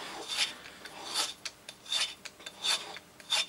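Hand file rasping and scraping a scooter engine cylinder head (139QMB motor) in steady strokes, about seven close, rhythmic passes with brief pauses between them.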